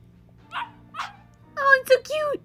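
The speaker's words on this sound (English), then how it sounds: "Let me talk to the puppy." Puppy in the video game Yakuza Kiwami giving a few short, high yips and barks in quick succession near the end, after two softer earlier bursts, close and clear.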